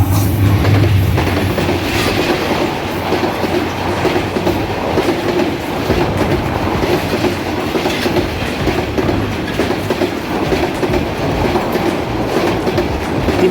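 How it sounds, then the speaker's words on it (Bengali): The Kurigram Express, a passenger train bound for Dhaka, rushes past a railway level crossing at speed, a loud, close, continuous roar of wheels and carriages with rhythmic clickety-clack over the rails and no voices. "কুড়িগ্রাম থেকে ছেড়ে আসা ঢাকাগামী 798 ডাউন কুড়িগ্রাম এক্সপ্রেস এই মুহূর্তে প্রবেশ করছে জামালগঞ্জ রেলওয়ে গেট দিয়ে কুড়িগ্রাম এক্সপ্রেস।"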